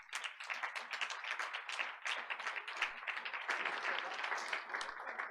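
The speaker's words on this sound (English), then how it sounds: "giving a big round of applause" An audience at a school board of education meeting applauds, a steady patter of many hands clapping at moderate distance, continuous for several seconds without talk.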